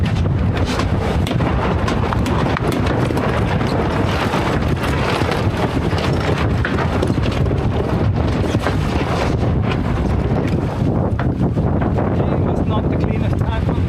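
Solo-sailed sailboat with no engine tacking through the wind, a steady loud rush of wind buffeting the microphone with water and hull noise beneath throughout.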